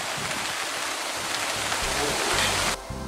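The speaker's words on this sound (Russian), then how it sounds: "Ну ты смотри, опять дождь" Steady rain falling over a garden bed where a new mixed border is being planted, a continuous broadband hiss of drops with faint low rumbling underneath, close and fairly loud throughout.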